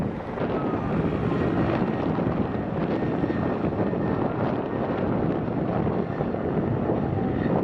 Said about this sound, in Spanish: el helicóptero de los bomberos ya está llegando para mojar la zona